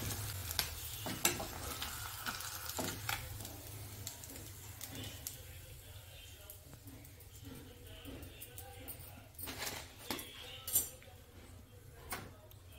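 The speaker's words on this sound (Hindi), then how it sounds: "क्योंकि कल मैंने एग्जीबिशन से पापड़ लाए थे तो उसको फ्राई कर दिया है" Papad frying in a home kitchen pan, a low, soft sizzle broken by utensil clinks and scrapes, with some background voices.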